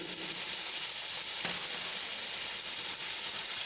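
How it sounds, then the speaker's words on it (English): Tomato puree sizzles in a hot pan for a chicken curry, a loud continuous hiss with one brief clink or scrape near the middle. "Now I will add tomato puree."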